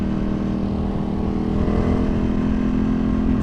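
A tuned Ducati Panigale V2 sport bike with an aftermarket exhaust drones loudly and steadily on a street ride, its engine note holding close and strong, with a slight rise in pitch but no distinct shift crack.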